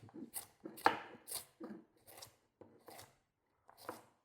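Knife chopping vegetables on a board for tomato beef soup, about seven distinct crisp cuts at an uneven rhythm, close and fairly quiet, with no talk.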